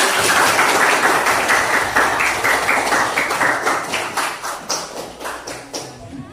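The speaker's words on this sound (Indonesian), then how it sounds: "Kasih tepuk tangan lagi" Classroom applause after a group presentation during an academic supervision coaching session, a dense burst of many hands clapping that starts loud and gradually thins and fades over several seconds.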